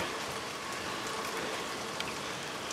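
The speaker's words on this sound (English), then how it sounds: "the rain's picking back up again" Steady rain falls outside a house during a thunderstorm, a dense, even hiss of drops on surfaces that holds constant throughout, with no voices.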